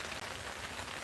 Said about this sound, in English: Wow, that rain is really bad.